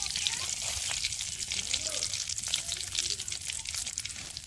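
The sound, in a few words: bay leaves and dried chillies frying in oil in a wok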